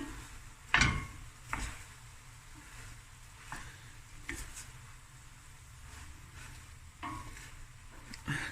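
Seafood fried rice with chives being stirred in a pan, soft, quiet frying with a few scattered spatula knocks and scrapes spaced out over a low background.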